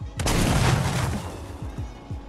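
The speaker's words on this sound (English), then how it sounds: "Nah, I'm shooting my grenades launchers anywhere." In a Fortnite match, grenade launcher rounds go off as a loud booming blast followed by a few smaller, duller thumps of explosions, heard up close with no talk over them.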